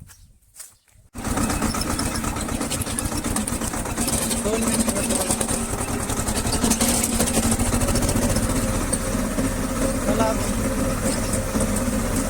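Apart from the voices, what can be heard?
tractor engine starting and idling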